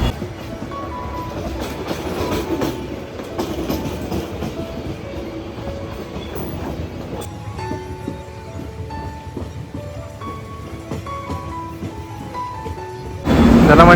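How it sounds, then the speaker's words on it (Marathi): Mumbai local train bound for Bhayandar running along the tracks, with steady rumbling and clickety-clack of wheels, and faint squeals and hum from inside the carriage, ending in a louder burst of rushing noise. "भाईंदर ट्रेन लागली होती. या ट्रेनने आलो."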